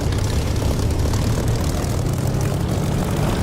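A Spitfire's propeller engine rumbles steadily while taxiing on a runway in the DCS flight simulator, a dense continuous roar with no talk over it.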